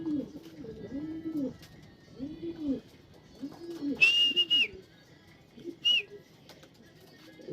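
Pigeons in a breeding loft in Capas, Tarlac give soft, repeated low coos in a slow rolling rhythm, close by, with a couple of brief high whistles breaking in partway through.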